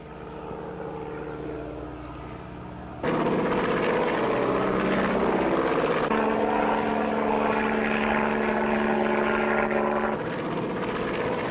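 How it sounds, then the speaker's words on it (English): A seaplane's engine and propeller drone steadily at close range, a loud sustained buzz that steps up sharply in intensity after a few seconds and holds, with no talking over it. "It's a seaplane and hunting lodge."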